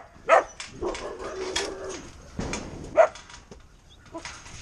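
A female dog barks outdoors on a farm during morning chores, two or three sharp barks spaced a few seconds apart, with quieter rustling and faint background sounds between them.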